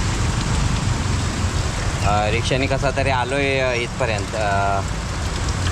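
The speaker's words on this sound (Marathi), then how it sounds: "आता मी उतरलो रेल्वे स्टेशनला आणि पाऊस आला" Rain falls on a street in Chiplun, a constant wash of patter that stays steady under a voice as he speaks briefly in the middle.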